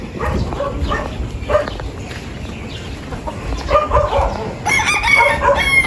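A dog barking outdoors on a rural farm trip while chickens and a rooster crow and cluck nearby, a mix of loud, close animal calls in bursts with the crowing standing out.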